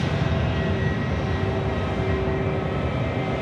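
Jet engines of Velocity flight 569, an airliner departing Sydney Airport at night for Perth, produce a steady, loud, broad roar that holds constant throughout with no voices.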